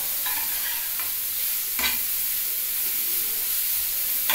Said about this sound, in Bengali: এটা ভাজা হওয়ার জন্য মিনিট দিয়ে কড়াইতে নাড়াচাড়া দিতে হবে